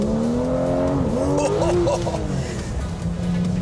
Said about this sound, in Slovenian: Porsche GT3. Yep, you can go.